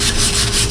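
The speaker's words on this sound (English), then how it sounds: "Back to hand sanding." Steady, continuous rasping of hand sanding on a 1977 Pontiac Trans Am part, a close, even scrubbing texture with slight strokes, alone without any talk.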